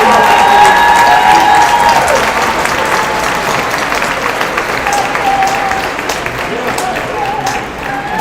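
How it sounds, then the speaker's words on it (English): Loud, sustained applause and some cheering from a graduation ceremony audience for an MBA class, dense clapping filling the hall and easing slightly toward the end. "let's give them a round of applause for the support they have given"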